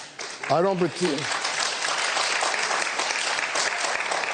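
Audience clapping in a news broadcast excerpt, a continuous even wash of applause after a short spoken phrase.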